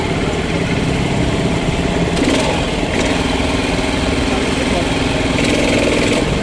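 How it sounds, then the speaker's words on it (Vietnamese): Petrol engine of a high-pressure car washer runs steadily and loudly throughout, with a constant mid-range drone and people talking over it. "Máy nổ xong rồi"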